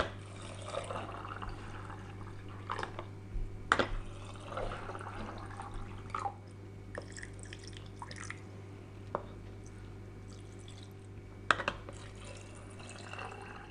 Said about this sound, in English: Then we fill all the jars up with filtered water, leaving 1 inch headspace in all the jars